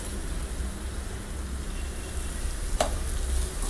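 Sprouted moth beans (matki) with salt sizzle and fry in a pan on a raised flame while being stirred, a steady close crackle with a brief scrape of the spoon near the end.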